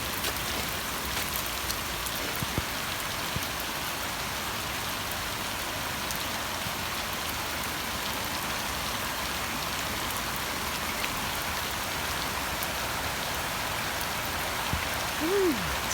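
A garden sprinkler sprays water over zinnias as a dense, steady hiss of droplets pattering on leaves and soil. It runs close and continuous throughout, like heavy rain.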